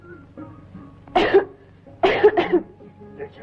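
A man coughs in a few harsh bursts, one single cough followed by a double cough, close and clear over a faint low hum.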